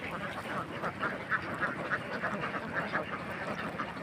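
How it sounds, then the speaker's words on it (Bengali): A flock of black-breed ducks bathing in water by a river, with many overlapping quacks in a busy, steady chorus at moderate distance. "দেখেন অনেকগুলো হাঁস পানিতে গোসল করা হইতেছে।"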